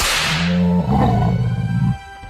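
A sharp whooshing crack of a dinosaur tail opens the clip, followed by a deep rumbling roar that swells and fades, loud and close.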